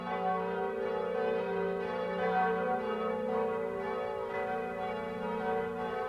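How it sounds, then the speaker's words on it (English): Church bells at Notre Dame ringing in an animated film, a sustained layered peal with overlapping tones swelling and fading gently, fairly faint and steady with no voices over it. "the bells are ringing in your honor today"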